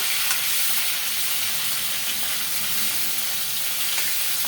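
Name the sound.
fish head frying in oil, sizzling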